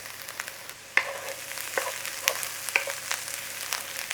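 Garlic frying in a pan gives a quiet, steady sizzle with scattered sharper pops and scrapes of stirring, close and alone without talk.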